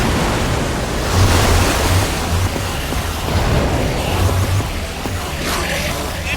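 Water gushes out in a loud, steady rushing wash within the Minecraft Story Mode game, a broad surging roar with slight swells that fills the whole stretch without pause.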